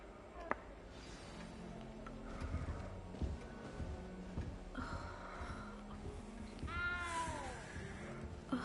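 A cat meows a few times in the video game Hogwarts Legacy, short rising and falling cries amid soft game ambience and background music.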